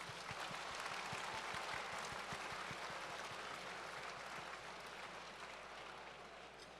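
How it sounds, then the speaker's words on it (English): Applause rises from the audience at an award ceremony, a steady wash of clapping that fades slightly toward the end. "A big round of applause, please."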